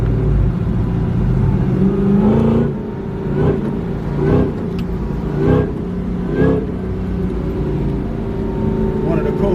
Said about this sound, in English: So if I pop it like this in manual, now I'll downshift it like a stick shift.